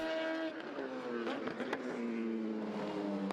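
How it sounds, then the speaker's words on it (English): A Eurasia race car blasts down the Fuji start-finish straight during the 2014 Asian Le Mans Series 3 Hours of Fuji, its loud, sustained engine howl shifting in pitch as it passes close by. "the Eurasia car with so much more top speed goes blasting past"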